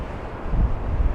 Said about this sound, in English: You see the camera being blown around, it's so windy.